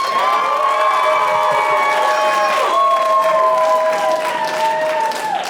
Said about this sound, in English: I want to know by sound of applause who here in this audience tonight has been arrested before.